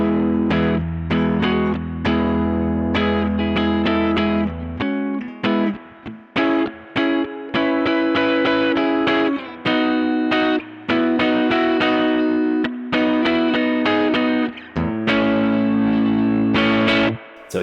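A Gretsch G5622T semi-hollow electric guitar with a Bigsby plays on its neck pickup with the volume rolled back, giving rhythmic strummed chords with light grit and a chorus-like shimmer, loud and close with no talking.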